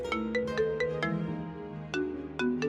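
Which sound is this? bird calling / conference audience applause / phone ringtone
phone ringtone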